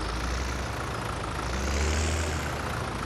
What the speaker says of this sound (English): Now we gotta turn the tractor around.